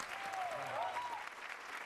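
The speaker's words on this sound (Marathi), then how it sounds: "एकदा भाज्यांसाठी आमच्या जोरदार टाळ्या झाल्या पाहिजेत" Audience applause for performers dressed as vegetables on a Marathi comedy stage show, a steady wash of clapping from a studio crowd, moderately loud and continuous with no talk over it.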